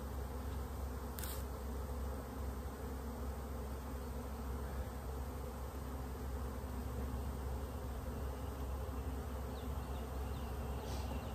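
Honeybees buzzing in a steady, dense drone around an outdoor hive, continuous and fairly close throughout with no talk.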